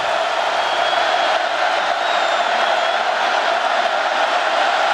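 A packed college football stadium crowd at a West Virginia versus Norfolk State game roars in a steady, loud, unbroken wash of noise filling the whole stretch.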